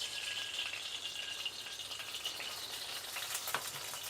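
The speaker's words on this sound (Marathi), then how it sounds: "आणि तूप टाकून भाजून घेऊया थोडस एक चमचा तूप घालायचं" Dry ingredients for dink-methi laddu roast in ghee in a pan, giving a faint, steady close sizzle with a few soft stirring scrapes.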